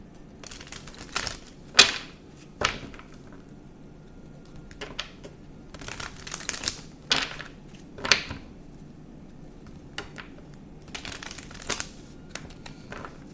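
Bursts of riffling, papery tarot card shuffling come in quick clusters, pausing between rounds, close and moderately loud with no talking.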